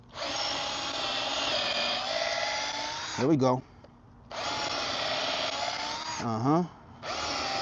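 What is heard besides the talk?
power drill drilling holes in deck stairs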